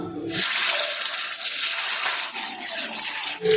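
Marinated chicken leg pieces hit hot oil in a pan, setting off a loud, steady broadband sizzle that starts abruptly and keeps going, easing slightly near the end.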